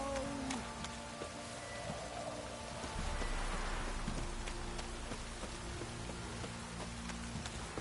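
Steady rain patters on surfaces in The Witcher 3: Wild Hunt, a constant dense hiss of drops with faint low rumbling underneath.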